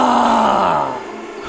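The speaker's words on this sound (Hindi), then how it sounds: "अचानक हमें एक चीख सुनाई दी" A scream in an animated Hindi horror story about a warehouse, heard as one loud, strained vocal cry that drops in pitch and fades, close and alone.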